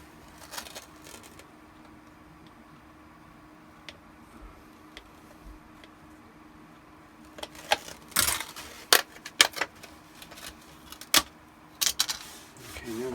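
Sharp clicking snips and crisp cuts of scissors trimming the corner of a costume armor piece, sparse at first, then a cluster of louder, irregular snaps close by.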